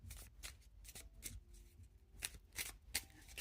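A tarot deck being shuffled close by, with repeated soft riffling card flutters and taps in an uneven rhythm, quiet and alone.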